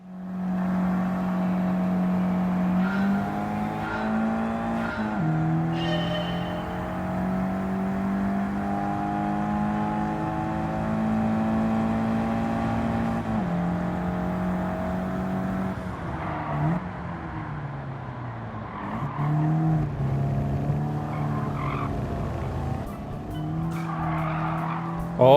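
Race cars in the Gran Turismo 7 video game drone continuously as engines rise and fall through gear shifts, with occasional tire squeal during the race.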